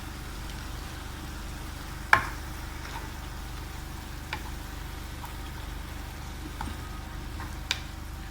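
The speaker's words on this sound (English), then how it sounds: "Now the tuna is cooking beautifully." Tuna sizzles quietly in a pan for a tuna sauce served over fries, a soft continuous hiss broken by a few sharp pops and clicks, with no talking.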